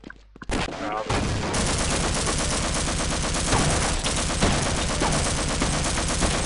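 Enemy soldiers blast away with shotguns in Half-Life: Blue Shift, a dense, loud, continuous barrage of gunfire that starts abruptly and keeps pounding without letup.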